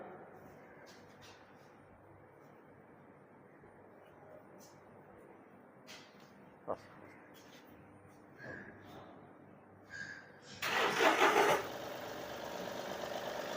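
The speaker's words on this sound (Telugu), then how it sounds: "ఒకసారి ఇంజన్ కూడా స్టార్ట్ చేసి చూపిస్తాను మీకు నేను ఇంజన్ స్టార్ట్ చేసి చూద్దామండి" Steady low background hum, then near the end the engine of a 2018 Mahindra TUV300 T8 cranks and catches with a loud burst, settling into a continuous idle.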